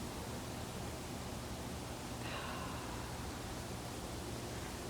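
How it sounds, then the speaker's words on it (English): A steady, soft rushing hiss of breeze moving through trees, constant and unchanging throughout, with no other distinct sounds. "There's a gentle breeze, I don't know if you can hear it, blowing through the trees."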